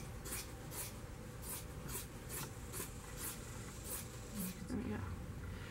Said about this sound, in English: I get my scissors. And I cut along the fold.